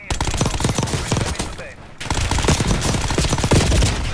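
Rapid SMG bursts in Call of Duty Warzone on Rebirth Island rattle loud and close, two sustained strings of automatic fire split by a short pause.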